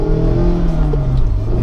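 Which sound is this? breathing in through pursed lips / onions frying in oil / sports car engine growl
sports car engine growl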